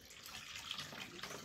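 Water poured back out of a bowl after a microfiber cloth absorption test, a steady close splashing gush lasting the whole moment with no voices.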